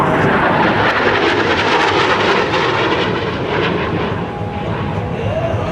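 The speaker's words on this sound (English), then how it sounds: "they are also directable as we get a high-speed pass over 550 miles" A jet airplane at the 2009 AirPower Over Hampton Roads air show roars loudly past in a high-speed pass at about 550 mph, a broad, sustained rushing thunder that eases slightly toward the end.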